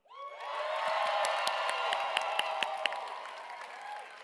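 A gala audience votes with loud, sustained applause mixed with cheering and whoops, a dense crowd roar rising quickly and staying strong for about four seconds.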